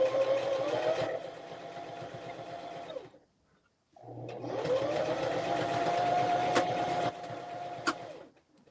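A sewing machine stitches a hoodie in two long runs, a close, steady whirring motor with rapid needle rhythm, broken by a short pause and ending with a couple of clicks.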